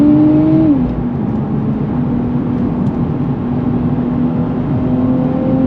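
A 2024 Nissan Z Nismo sports car pulling hard on throttle around a track, its engine a loud steady drone with a pitch that dips at a shift in the first second and then holds a sustained, strained note.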